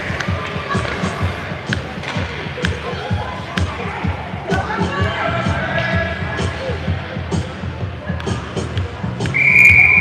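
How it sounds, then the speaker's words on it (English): A referee's whistle stops play at a 12U youth ice hockey game, a short shrill blast near the end over steady rink crowd noise, skating and puck clatter, with a commentator talking throughout. "He stops it for a whistle."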